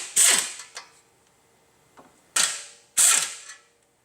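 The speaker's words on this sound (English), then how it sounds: "I'm going to use a small air ratchet or air gun to loosen these bolts." Small air ratchet spinning off clutch pressure plate bolts during a clutch and flywheel job, three loud pneumatic bursts with short rattling tails and two fainter clicks between them, close by with no talking.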